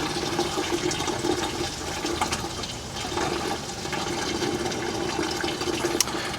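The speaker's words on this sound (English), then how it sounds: "Drain the reservoir first, and then we'll pop this off." Coolant drains from the coolant reservoir of an Atlas Copco air compressor with a John Deere 4045T engine, a steady, close rushing and splashing of liquid that runs unbroken throughout.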